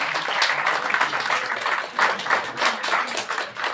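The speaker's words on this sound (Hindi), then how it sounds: "आप लोग भी जो है गर्मजोशी से तालियों से इनके स्वागत करें" An audience at a university inaugural function claps in welcome, a fairly close, uneven patter of hands that swells and dips in short waves without dying out.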